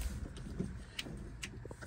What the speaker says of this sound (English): It's an old Chevy and it turns over.